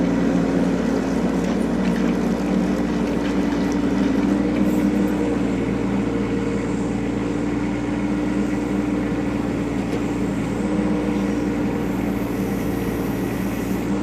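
A 2023 Bobcat E10 mini excavator runs with a loud, steady engine drone and low mechanical hum, close and continuous with no pauses and no voices over it.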